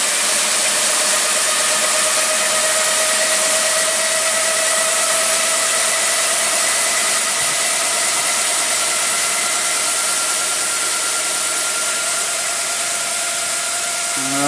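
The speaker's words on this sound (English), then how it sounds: "Oh, there goes the valve again." A steam boiler's safety valve vents during a test burn, a loud continuous hiss with a faint whistling tone held throughout, steady and unbroken for the whole stretch.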